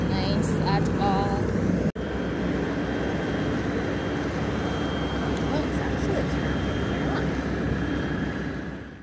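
Steady broadband engine drone and wind roar inside a small propeller airplane in flight, loud and constant throughout, with a brief dropout near two seconds and a voice talking faintly at the start.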